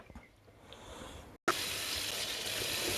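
Ground beef frying in a pan for a low-carb burger bowl, a quiet hiss that jumps to a steady, brighter sizzle after a brief gap.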